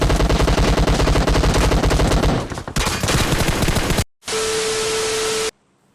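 Loud rapid game-style gunfire with heavy automatic bursts, then an abrupt cut to a static hiss with a steady tone.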